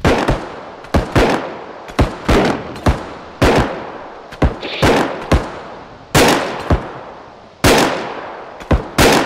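Loud, close gunshots from the video game Bodycam crack out in sharp bursts, single shots and quick doubles spaced irregularly across the clip, each with a decaying echo tail.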